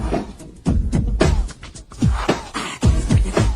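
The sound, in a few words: Someone vocally imitating a drum machine beat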